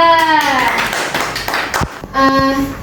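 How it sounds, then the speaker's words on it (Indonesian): A classroom claps for a student group that has just presented in a physics lesson, a short burst of hand clapping mixed with young voices talking before and after. "Beri tepuk tangan untuk kelompok 2."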